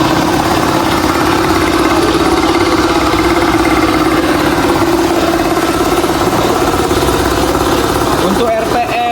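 An electric motor drives an air compressor, running loud and steady with a constant droning hum and vibration throughout, and a brief clattering change near the end.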